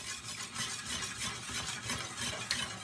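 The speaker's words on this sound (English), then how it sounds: "So you just wanna keep whisking it until it get really thick." A whisk scrapes and churns through thick Jamaican porridge in a pot on the stove, giving a steady, soft, wet stirring rhythm at close range with no talking.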